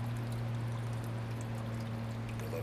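A backyard water fountain runs with a steady pouring, trickling splash, continuous and fairly close, under a low constant hum.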